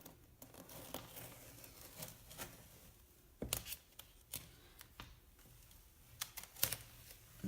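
Chalk transfer stencil being peeled up off a board from the bottom, giving soft crinkling and scattered sharp crackles and ticks, a few louder pops among quieter rustling, close and alone without talk.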